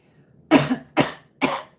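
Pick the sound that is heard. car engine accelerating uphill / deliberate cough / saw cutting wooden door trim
deliberate cough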